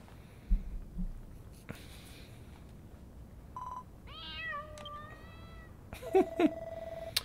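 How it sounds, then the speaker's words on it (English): A cat meows in Dragon Quest Builders 2, a short series of clear, rising-and-falling game meows near the middle, among sparse clicks and brief game sound effects over a quiet background. "Oh, just a kitty."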